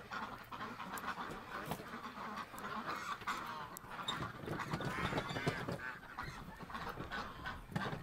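Ducks in a coop during morning chores give soft, scattered quacks and honks. The calls are faint and close, over rustling and low background noise.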